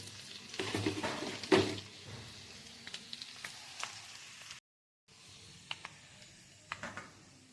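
Curry vadagam fries in hot oil for a fish curry, a quiet, steady sizzle with scattered pops and crackles that breaks off briefly and then resumes.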